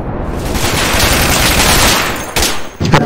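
Dense, loud machine gun fire blasts in rapid continuous bursts during an Insurgency firefight, briefly dipping before another volley starts.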